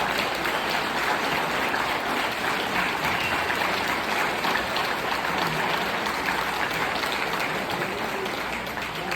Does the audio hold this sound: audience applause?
yes